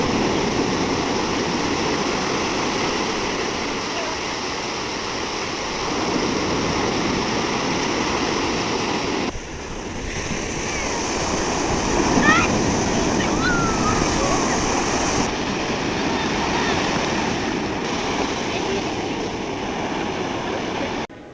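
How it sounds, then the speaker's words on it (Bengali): Sea waves roaring at night on Inani beach, a steady broad surf wash that swells and eases without a break, loud and close, with no talk over it. "সমুদ্রের পানির ঢেউয়ের গর্জন শুনতে আপনাদের কেমন লেগেছে আমাকে কিন্তু অবশ্যই জানাবেন।"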